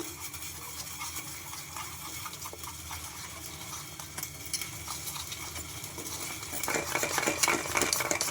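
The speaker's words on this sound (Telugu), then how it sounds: "ఇప్పుడు బాగా ఒకసారి కలిపేసుకున్నామండి ఇలా విస్కర్తో" A whisk beats a salted batter in a bowl close up, a continuous busy scraping and tapping that grows a little louder and faster near the end.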